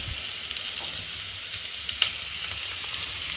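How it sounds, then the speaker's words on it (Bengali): Potatoes fry in a wok with an even, close sizzling hiss, dotted with small pops and crackles throughout, and no voices. "রাঁধুনি এই যে আলু ভাজা চলছে।"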